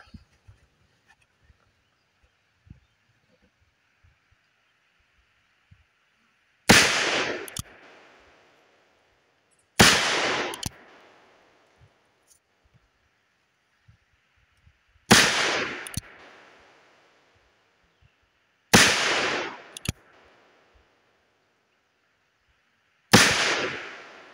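Five loud revolver shots from a Cimarron Thunderer chambered in .357 at an outdoor range, spaced several seconds apart, each a sharp crack with a short ringing decay against a quiet background.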